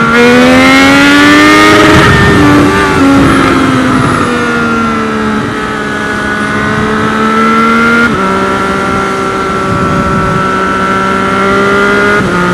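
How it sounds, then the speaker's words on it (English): Car engine revved hard toward the rev limiter, a loud, close, droning tone that climbs, eases and surges again over about twelve seconds, with no talking. "I want to hit rev limiter."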